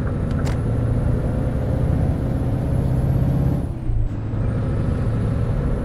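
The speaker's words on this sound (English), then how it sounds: "this truck does not hang about." A heavy truck in Euro Truck Simulator 2 rumbles along at a constant low drone with a faint high whine, and a brief dip and hiss partway through.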